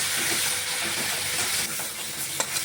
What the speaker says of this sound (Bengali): ভালোভাবে কষে যাচ্ছে।